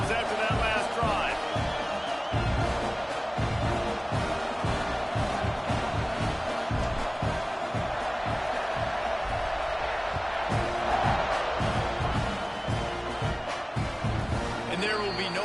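A stadium crowd roars steadily at a Texas college football game, with a broad, sustained wall of cheering and whoops around a kickoff, running under a commentator's continuous play-by-play talk.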